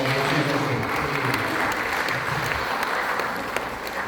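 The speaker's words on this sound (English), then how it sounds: "can you all put a big round of applause for" A gathering claps in a big round of applause after a closing prayer, a dense, even patter of many hands that carries on steadily, with a faint voice briefly underneath at the start.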